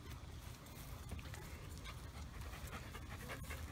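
Several puppies pant rapidly and rhythmically close by, with faint whimpers and shuffling; the breathing is quiet and continuous.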